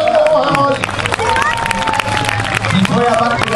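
A crowd at a medieval festival cheers and applauds for a performer, loud sustained clapping and shouts mixed with crowd chatter and talking.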